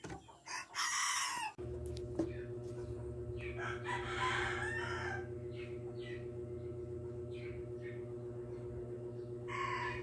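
Small-breed chickens in a rural yard, two roosters and a hen, crow loudly in a couple of bursts and cluck intermittently over a steady low mechanical hum, close by.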